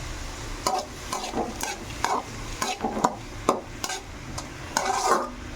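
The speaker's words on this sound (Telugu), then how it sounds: "మిక్స్ చేసుకొని మీడియం ఫ్లేమ్లో 5 to 10 minutes పెట్టేస్తే బాగా మగ్గిపోతాయండి" Beetroot and onion with salt being mixed in a frying pan over medium flame, a soft sizzle broken by a dozen sharp scrapes and clinks of a spoon against the pan, close, with no talk.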